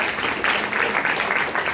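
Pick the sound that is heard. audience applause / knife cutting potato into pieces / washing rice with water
audience applause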